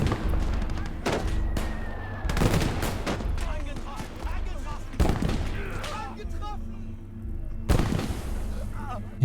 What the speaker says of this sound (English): And the other Flakvierling is having a go at them.